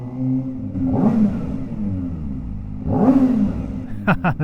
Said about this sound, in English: Give it one last rev before we get out of here.